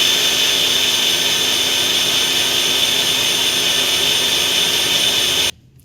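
A blender runs loudly and steadily, mixing a dry-fruit powder shake with a little water, a constant high whirring motor that cuts off abruptly near the end.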